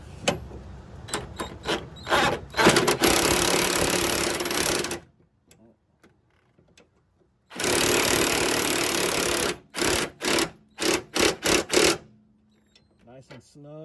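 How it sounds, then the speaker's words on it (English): A 21 mm socket drives a sway bar link bolt on a Dodge Charger R/T, making two long, loud, close buzzing runs separated by a pause, followed by a string of short rapid bursts. "I use a 21 millimeter socket and just drive that sucker right in"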